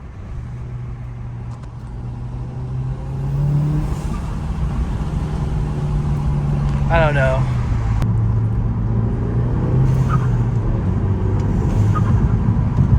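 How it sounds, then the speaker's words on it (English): A VW Mk7 GTI fitted with an ECS cold air intake revs while being driven, its engine note rising into a louder, steady drone with a brief whistling whoosh partway through, and a voice talks briefly over it. "I definitely like the noise of the cold air intake"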